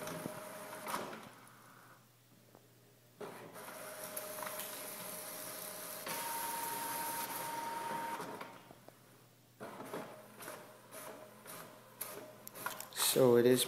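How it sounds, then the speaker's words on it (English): A wireless printer runs a job sent from an iPad, giving off steady mechanical whirring and feed clatter in several stretches, with a louder burst of activity near the end, while someone talks over it. "So it is printing."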